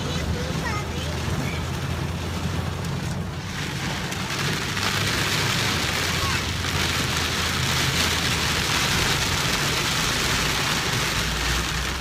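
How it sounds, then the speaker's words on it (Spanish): Heavy rain pours down steadily, a dense, loud wash of drumming on surfaces that holds unbroken for the whole stretch, with talk faintly mixed in beneath it. "Está lloviendo súper fuerte."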